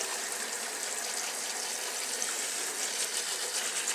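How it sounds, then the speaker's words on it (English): Running water rinses soap off sneakers, making a loud, steady, continuous gushing spray like a tap or hose that holds even from start to finish. "Then I go ahead and rinse them off."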